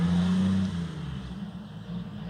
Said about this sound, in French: Je vais laisser repasser la voiture.